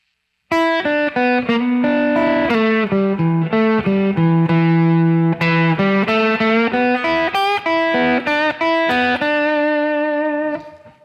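A clean electric guitar plays a flowing slow blues lick of quick notes, slides and bends, loud and close, ringing out at the end with no talking.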